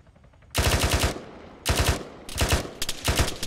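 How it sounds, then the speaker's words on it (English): Heavy machine gun fire in the game Arma 3, several sustained rapid bursts of loud, close automatic shots separated by short pauses, no talking. "Confirm, heavy MG to the south-southeast,"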